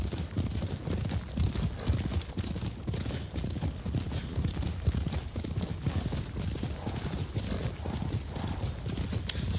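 Horse hooves clip-clopping steadily at a riding pace in Ghost of Tsushima, a continuous rhythmic patter close up that carries through the whole stretch without speech.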